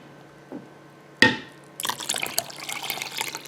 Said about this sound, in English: instead of shaken buttermilk, I'm going to add water